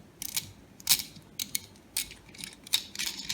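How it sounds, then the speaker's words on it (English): Thumb nut unscrewed from a 1Zpresso J-Max hand coffee grinder, making quiet, close ratcheting clicks and metallic scraping in short bursts with small pauses between turns. "take your thumb nut off"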